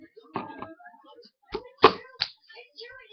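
A few separate hand claps and thumping hits in a loose pattern, sharp and close, spaced out with short gaps and a stronger slap near the middle.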